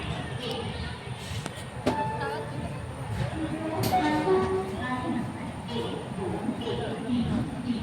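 A train running from Mumbai CSMT to Nizamabad rolls along with a steady low rumble and rhythmic rattling of the carriages, while people talk nearby.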